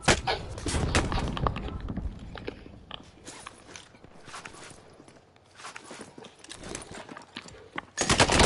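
Scattered gunshots in the shooter game Warzone, loud bursts at the start and again at the end, with quieter shots and footstep-like movement between them and no talking.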